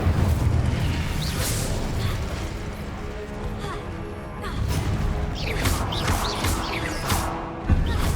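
Spell blasts from Confringo and Incendio in the video game Hogwarts Legacy boom and crackle repeatedly over dense combat noise, with sharper fiery bursts clustering toward the end.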